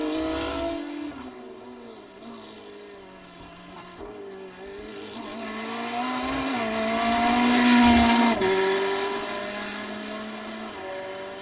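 A Ferrari GT3 race car at Imola, likely in sim racing, its engine note climbing and falling through gear changes with a rising howl toward the final corner, loud and close, with no voices over it.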